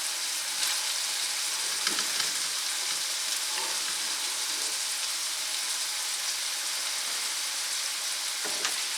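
A large heap of cabbage frying in a hot skillet, a steady close sizzle and crackle throughout with occasional faint stirring scrapes.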